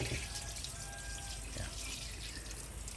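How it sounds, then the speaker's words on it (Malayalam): Water is poured off settled arrowroot starch at home, a continuous splashing trickle with small drips, steady and fairly faint, with no one speaking. "ഈ വെള്ളം നമ്മൾ ഒഴിച്ച് കളയുന്നതാണ്"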